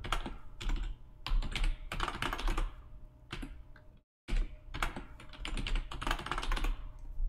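Rapid keystrokes on a computer keyboard while entering a root password during a CentOS 8 Linux install, close and steady in bursts with one brief pause midway.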